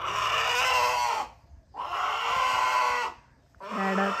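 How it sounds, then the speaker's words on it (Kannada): A country chicken being caught by hand at home lets out three loud, close squawking clucks separated by short pauses. "ಕೈಲಿ ಸಿಕ್ತು ಕೋಳಿ"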